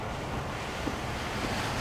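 A flooded river rushing nearly over its banks and close to washing out a bridge, heard as a steady, dense roar of water mixed with wind noise, with no talking.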